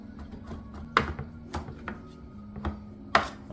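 A knife chops and minces garlic on a board, making sparse, sharp taps with a few louder strikes among quieter ones.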